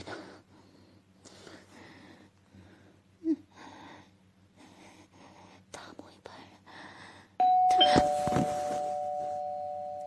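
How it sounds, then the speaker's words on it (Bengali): Electric calling bell rings out loud and sustained near the end, after a stretch of soft, quiet speech in a room. "এমন সময় কলিং বেলটা বেজে উঠল।"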